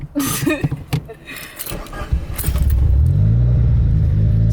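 A DSM/Evo with a five-speed manual revs up as a learner driver pulls away in first gear, a deep steady engine rumble building after some brief handling noises and a short spoken remark.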